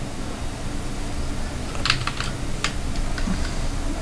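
Typing HTML code on a computer keyboard: a few scattered light key clicks over a steady hum of background noise, fairly faint and sparse with no talk.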